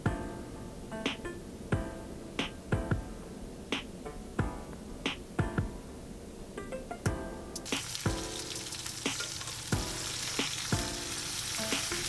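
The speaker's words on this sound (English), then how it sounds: "Now we whisk away." Flour whisked into pot roast gravy in a pan gives repeated sharp metallic clicks and taps in a steady rhythm over a bubbling simmer that turns louder and hissier toward the end, close up with no talking.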